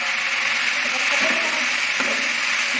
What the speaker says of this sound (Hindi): अभी इसके अंदर चिकन को फ्राई करेंगे पहले